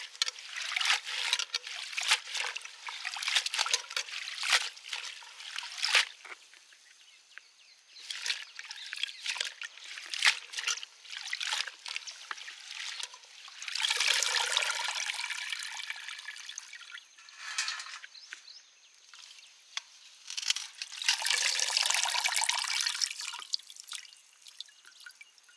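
Water trickling and dripping as soil is rinsed from plant roots, an irregular patter of splashes and runs with two longer, fuller pours midway and near the end, fairly close and with no talking.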